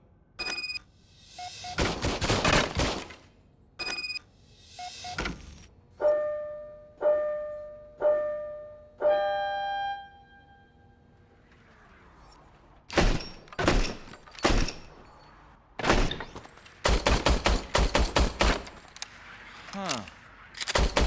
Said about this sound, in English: I was issued this old gun and serviced it according to the manual. I will try it out.